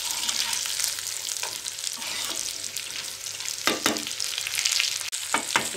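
Onions and tomatoes sautéing in a pan for an egg masala gravy: a steady bright sizzle with occasional louder spatula scrapes and stirring clatters, close by, no voices.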